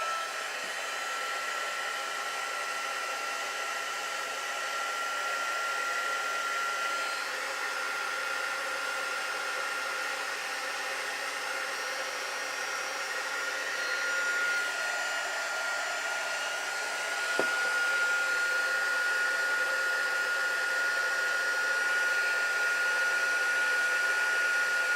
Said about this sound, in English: Wonder if I use my heat gun.